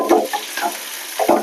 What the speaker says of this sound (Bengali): তেল গরম হয়ে গেল, এবার আমি পেঁয়াজটা দেব।